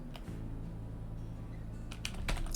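Quick keystrokes tap on a computer keyboard during a drawing session, a few sharp clicks clustered toward the end over a steady low hum.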